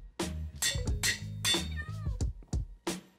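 A cat meows repeatedly and close up, a series of about eight short, tonal calls with uneven pauses, loud and clear with little else around them.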